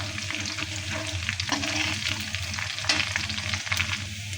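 Whole spices for tempering hit hot oil in a pan for a cauliflower and potato dal, giving a loud, close, crackling sizzle that holds steady with a few sharper pops and stirring scrapes.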